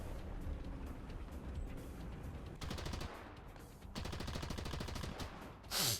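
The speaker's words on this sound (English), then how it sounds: "just firing guns and just randomly up into the air" Machine gun fire in War Thunder, with fast rhythmic bursts of rattling shots that run for several seconds and then resume after a short break. Heavy rumble sits underneath, and the clip ends with a louder blast.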